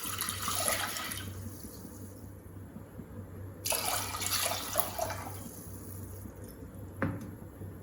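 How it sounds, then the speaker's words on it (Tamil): Two cups of water poured into a pot on a stove for mushroom soup, heard as two short splashing pours with a faint trickle, over a steady low kitchen hum. "இப்போ இதில் வந்து ஒரு 2 கப் அளவுக்கு நான் தண்ணி சேர்க்குறேன்."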